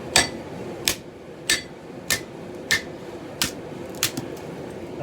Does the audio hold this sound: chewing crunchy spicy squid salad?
no